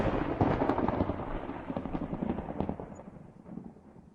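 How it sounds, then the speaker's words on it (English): A lightning thunder effect from the game Minecraft crashes in loud and close, then rolls and rumbles unevenly as it slowly fades out over a few seconds. "And then there's the lightning."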